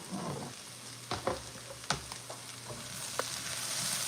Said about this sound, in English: We're going to give them a nice stir up, kind of coat them with those meat drippings, that residual oil.